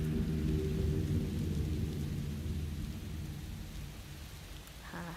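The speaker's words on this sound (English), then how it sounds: "Ambient rain. That sounds nice." Steady ambient rain with a low rumbling roll of thunder in The Stanley Parable, a continuous wash of sound that eases slightly toward the end.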